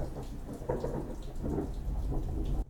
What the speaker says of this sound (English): there's thunder in the background